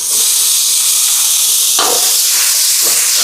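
Steady, loud sizzling hiss of tomatoes frying in hot oil, with a brief sharper crackle partway through.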